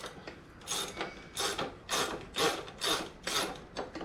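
A wrench ratchets in a run of short, evenly spaced clicking strokes on the rear axle bolt of a pit bike, close and fairly quiet.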